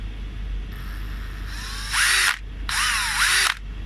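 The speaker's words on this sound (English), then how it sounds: "And it's able to drill holes." A cordless drill whirs up in two bursts, the second longer, each with a high whine that dips as the motor winds down, over steady background hum.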